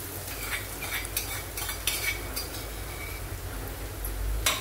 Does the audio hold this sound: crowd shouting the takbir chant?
no